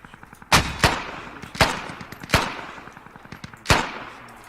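Gunfire in the tactical shooter game Squad: four sharp, loud shots spaced about a second apart, some in quick doubled pairs, each followed by a short reverberant tail, with no talking over them.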